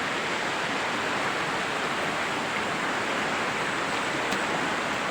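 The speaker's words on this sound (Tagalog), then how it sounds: "Dito muna tayo sa ilog" The Suaga river flows in a steady, full rushing murmur, close and constant with no voices over it.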